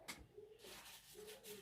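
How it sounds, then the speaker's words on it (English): Pigeons or doves coo outside a home craft room, soft repeated low cooing phrases, faint and distant. "birds must be outside"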